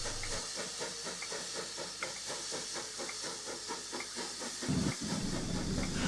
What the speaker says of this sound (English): In the distance comes the sound of a steam engine.